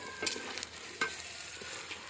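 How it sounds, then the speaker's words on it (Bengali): Garlic and ginger are stirred into onions frying in a pan for a village-style chicken and potato curry, giving a faint sizzle with a few sharp spatula scrapes. "রসুনটা একটু নেড়ে ছেড়ে নিচ্ছি"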